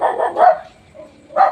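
Several dogs bark in loud, close bursts at the start and again at the end, with a quieter gap between them, heard while a microwave transformer is being checked.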